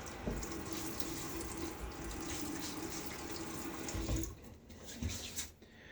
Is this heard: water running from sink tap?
yes